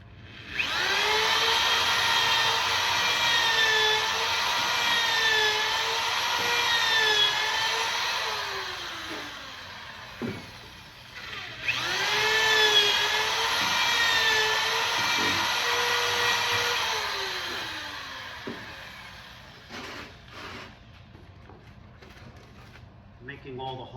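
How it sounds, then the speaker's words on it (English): A high-pitched power drill whines steadily for about ten seconds boring into a Himalayan salt brick, pauses, then runs again for a similar stretch before winding down into scattered clicks and handling noise. "So this one over here, I'm gonna drill the hole first"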